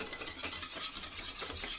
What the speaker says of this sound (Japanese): このようにサバイヨンを描いている時は泡立て器を8の字を描くような形で混ぜていきます